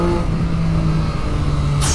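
Triumph Street Triple RS motorcycle on the move, a loud close engine drone with a steady low tone under rushing wind noise, briefly rising at the end.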